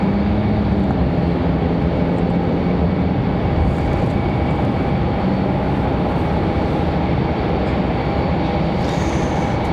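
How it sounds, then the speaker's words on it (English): Delta Airbus A320 departing Raleigh-Durham for Atlanta, heard in the distance as a steady, continuous jet engine roar with a faint droning whine, no voices. "Delta 2052, that one you're seeing out there in the distance, headed to Atlanta, Georgia. That A320."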